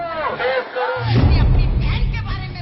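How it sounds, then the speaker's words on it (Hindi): A BSP rally crowd in Lucknow shouts angrily at the BJP, loud massed voices and chanting swelling into a dense roar, with individual shouts standing out near the start. "बीएसपी की लखनऊ में भीड़ और उस भीड़ की ओर से बीजेपी पर होती गालियों की बौछार"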